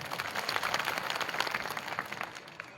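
Applause from an audience at a decorated outdoor gathering with tents and a stage, a dense patter of many hands clapping at moderate distance, fairly soft and steady throughout.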